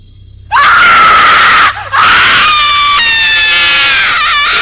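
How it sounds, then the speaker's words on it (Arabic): A sudden loud, shrill scream breaks a quiet room and is held, cut off briefly, then resumes with a wavering pitch until the end. "مين اللي صرخ الصرخة دي؟"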